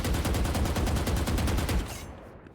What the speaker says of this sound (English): If I'm strafing left and I'm shooting,